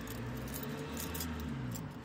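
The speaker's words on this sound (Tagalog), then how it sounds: "Buksan natin siya ng susi." A bunch of keys jangles close by as a main dormitory door in the Czech Republic is being unlocked, a brief continuous metallic rattle with no voices.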